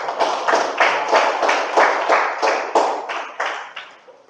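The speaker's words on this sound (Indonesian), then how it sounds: "Tepuk tangan untuk kelompok 1." A classroom group claps for a student group in a quick, patterned rhythm of loud bursts, close and clear, slowing and fading toward the end.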